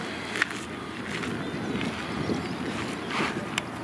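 Steady outdoor wind buffets the microphone, a constant rushing hiss with a few brief gust bumps, and no voices.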